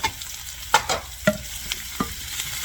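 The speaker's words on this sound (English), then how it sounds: "Now that we've got those softened up just a little bit, we're going to add our zucchini chunks." Zucchini chunks tumble into a hot stir fry of chicken and vegetables. A spoon stirs them with sharp scraping knocks over a steady low sizzle, and nobody speaks.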